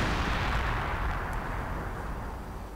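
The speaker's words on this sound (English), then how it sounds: "And another artillery strike." Artillery strike in a real-time strategy war game, a loud, rumbling barrage of blasts that slowly fades over a few seconds, without talk.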